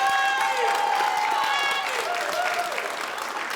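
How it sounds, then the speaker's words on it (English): An indoor audience at a Boys & Girls Club Hall of Fame event gives sustained, dense applause with some cheering, loud and steady throughout, while a voice speaks over it. "Give him a round of applause."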